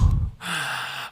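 A human voice imitates a bear's breathing with a heavy low exhale followed by a raspy, breathy intake, one close huffing breath cycle.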